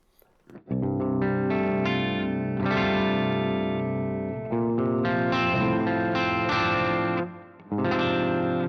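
An electric guitar plays sustained chords through a clean amp tone from the Bogren Digital Trivium Ampknob plugin, with light reverb adding a short tail, loud and continuous with brief dips between phrases.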